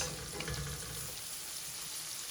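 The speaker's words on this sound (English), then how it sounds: "But look at bacon fat and onions cooking together." Bacon fat and onions sauté in a pan over medium-high heat, giving a continuous even sizzle, close and moderately quiet, with no talk.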